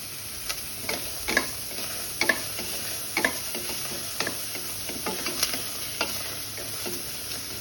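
Finely chopped garlic being sautéed without oil in a pan, a soft background hiss broken by irregular light scraping and tapping strokes of a spoon, close and fairly quiet, no talk.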